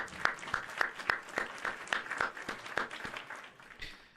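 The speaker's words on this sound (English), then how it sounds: "Round of applause." A short applause sound effect played during a live stream: a sparse run of distinct, evenly spaced claps, fairly faint and close, fading out toward the end.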